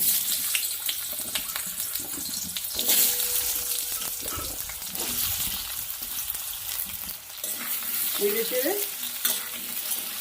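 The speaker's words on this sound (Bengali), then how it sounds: "ওই মাছ ভাজার তেলে এবার একটু ভেজে নেবো" Cubed potato pieces frying in leftover fish-frying oil, a steady broadband sizzle with stirring scrapes and a few clinks, close and moderately loud throughout, with no voices.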